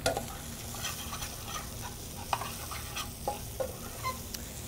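Sweet shallots frying in a hot pan, a continuous crackling sizzle punctuated by scraping stirs and occasional utensil taps against the pan, close and clear with no talking.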